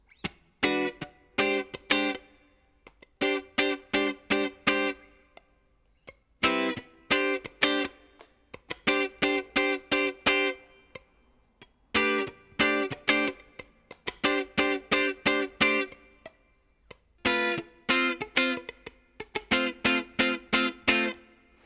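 Strummed guitar chords in a chorus pattern, short rhythmic bursts separated by brief gaps, with a slightly effected, driven tone throughout.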